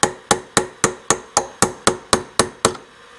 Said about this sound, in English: If your chisel is really sharp, you will be able to cut through that metal band.